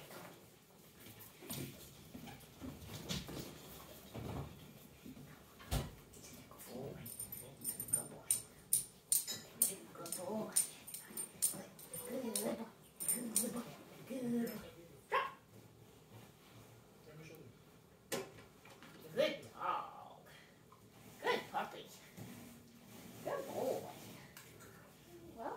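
A puppy whimpers and yips in short, scattered bursts during a training session with food and toy-release practice, mixed with a trainer's speech throughout.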